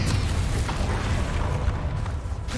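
A Confringo fire spell goes off in a video game, a loud, continuous booming blast with a heavy low rumble that fills the whole moment without a break.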